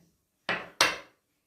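A spoon of butter going into a clay güveç pot gives two close, clear knocks about a third of a second apart, each with a short scraping tail, followed by silence.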